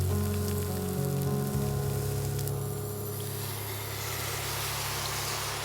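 Tofu coated in beaten egg frying in a pan, a steady crackling sizzle that holds for several seconds at a moderate level, with no voices.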